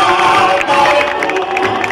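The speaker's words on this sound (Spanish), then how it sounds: "Démosle un fuerte aplauso a Selva Morales" An audience at a grape harvest festival applauding a candidate, a dense wash of clapping and cheering from a crowd, loud and continuous through the short moment.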